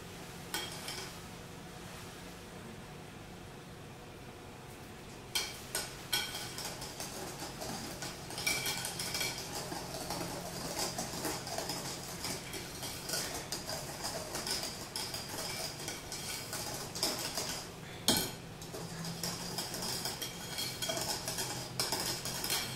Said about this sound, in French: Je vais rajouter maintenant mes blancs d'œufs. Je vais les mélanger délicatement pour ne pas casser les blancs.